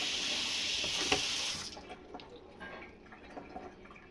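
Fish rinsed under a running tap: a steady close stream of water that stops after about a second and a half, followed by faint drips and handling sounds.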